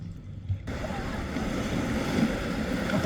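Sea waves wash steadily at a beach, a soft broad surf that starts abruptly and continues evenly with light wind over it.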